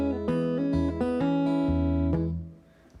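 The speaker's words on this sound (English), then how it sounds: "This ending has a lot of cool hammer-on and pull-offs." An acoustic guitar plays the fingerstyle ending of a song with hammer-ons and pull-offs: a run of ringing plucked notes and bass tones, close and clear, with the last chord fading out.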